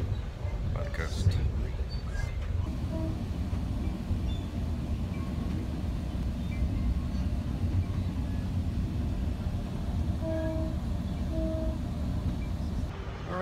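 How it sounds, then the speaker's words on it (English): Steady low rumble and rattle of a moving train carriage on a coastal line, continuous throughout, with faint higher squeals and tones drifting in and out. "It's a nice train ride"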